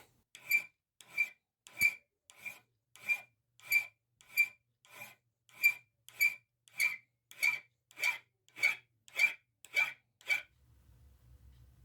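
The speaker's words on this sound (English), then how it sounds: "So I'm resorting to hand filing." Hand file rasping across a steel Billings & Spencer Model A adjustable bicycle wrench, about fifteen evenly spaced scraping strokes, crisp and close, then stopping to a faint low rumble.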